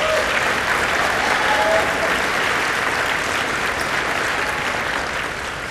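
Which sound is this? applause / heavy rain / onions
applause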